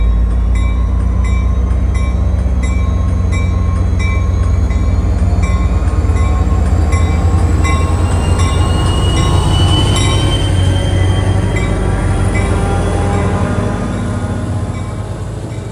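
A New Jersey Transit train hauled by EMD diesel locomotives passes close by, a loud, continuous rumble of engines and wheels, with high metallic wheel squeal running throughout and easing slightly near the end.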